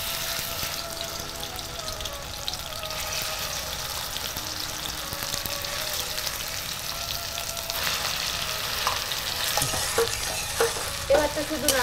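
Green chili and taro paste stirred and fried in a hot pan, a steady sizzle with scraping stir strokes throughout, growing busier with sharper spatters and clatters near the end, no voices.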